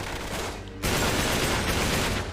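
Loud, dense burst of gunfire from the video game Uncharted 3: Drake's Deception, starting abruptly after a short quieter stretch and continuing as sustained, heavy shooting with no voices.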